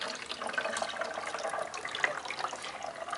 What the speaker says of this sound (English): we're going to pour the water into this funnel right here.